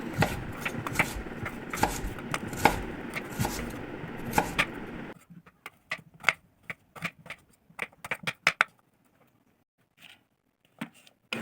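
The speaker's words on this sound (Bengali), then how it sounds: "আমি এখন এটাকে কেটে নিব পিস পিস করে তো তোমরা দেখতেই পাচ্ছ আমি এটাকে এখন কাটছি" A knife chopping nut fruit into pieces: a dense run of quick, close cutting taps on a board, then fewer separate chops with quiet gaps between them.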